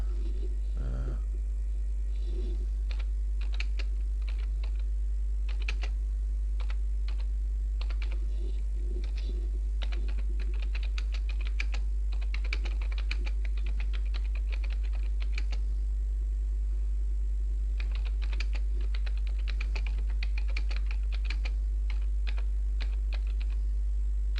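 Notes being typed on a computer keyboard, a steady patter of close key clicks in irregular bursts with brief pauses, over a constant low electrical hum.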